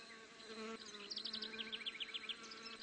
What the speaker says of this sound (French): La ruche est en effet la cible privilégiée du frelon velutina.